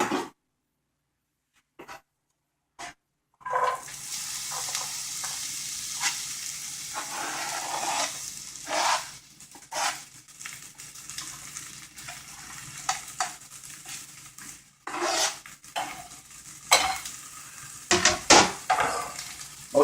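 Chopped onion and garlic sauté in two tablespoons of hot olive oil in a pan for spaghetti sauce, a steady sizzle broken by repeated scraping and stirring strokes, close and fairly loud, with brief silence at the start.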